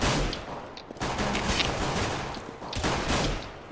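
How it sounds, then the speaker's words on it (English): Dense bursts of gunfire from a video game pistol round, shots crackling loudly and continuously across the whole stretch with a few sharper cracks standing out, no talk over it. "There's two still shooting from the front."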